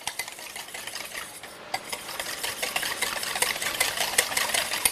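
Cracked eggs whisked briskly in a bowl, a rapid, even clatter of utensil strokes that grows slightly louder and busier toward the end, with no talking.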